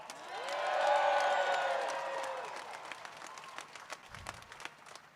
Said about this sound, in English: Give her another cheer.